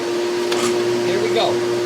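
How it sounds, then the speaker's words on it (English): A shop vacuum switched on in a woodworking shop, a loud steady whine and rushing air holding constant throughout, with faint clatter on top. "I'm going to turn the vacuum on."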